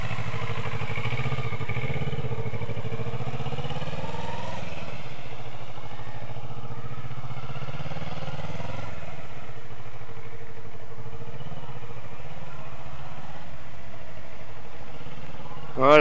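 A motorcycle on a riding-training course slows and brakes through a turn, its engine a steady mid-pitched drone that rises and eases, loud and continuous, with talking heard faintly beneath.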